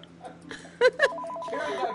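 A desk telephone rings in the office game Accounting+, with a couple of short, loud bursts followed by a steadier repeating electronic trill, a voice murmuring faintly beneath.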